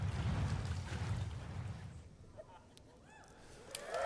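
Water splashing in a Star Citizen game engine demo: a loud, rushing wash of splash noise fills the first half, then fades to quieter ambience with brief sounds and a voice speaking.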